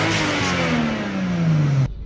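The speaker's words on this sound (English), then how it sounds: "Todd has a twin turbo Supra." A twin turbo Toyota Supra engine revs hard, its loud drone steady and then sliding lower in pitch before cutting off abruptly near the end.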